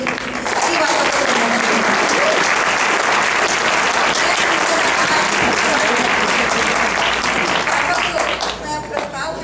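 An audience at a Hindi association gathering breaks into loud, dense applause that continues for several seconds before tapering off near the end.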